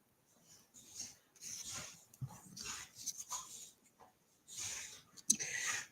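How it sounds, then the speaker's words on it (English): Dogs scuffle and play nearby, with heavy panting, snuffling, soft whimpers and bursts of rustling movement in uneven spurts. "it's my dogs playing."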